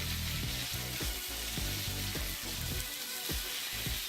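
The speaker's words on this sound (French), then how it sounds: "Dans de l'huile très chaude, petite quantité de pommes de terre." Small batch of potatoes frying in very hot oil for Wiener schnitzel garnish, a steady close sizzle with a faint rhythmic pulsing running under it and no talk.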